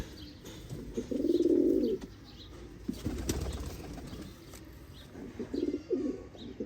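A breeder pigeon coos in a close, throaty burst, then quieter coos return later, with fluttering and shuffling movement in between and no talk.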